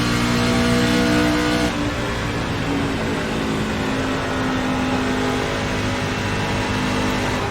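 A NASCAR Gander Truck Series race truck in iRacing at Homestead Miami roars steadily at high revs throughout, a loud continuous engine drone with a slight dip in pitch early on, no talk over it.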